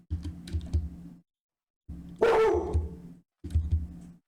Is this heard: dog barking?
yes